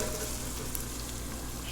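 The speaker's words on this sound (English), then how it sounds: "just got it in the microwave there thawing out" Microwave running while thawing frozen stock made from a Canada goose carcass: a steady low hum with broad sizzling, crackly noise throughout, fairly quiet and continuous with no voices.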